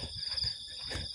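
Crickets chirp steadily at night at a campsite, a high continuous trilling with soft low rustles underneath and no voices.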